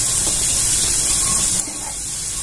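Spinach and cabbage bhaji fritters deep-fry in hot oil with a continuous, close, hissing sizzle that eases slightly partway through, with no talking.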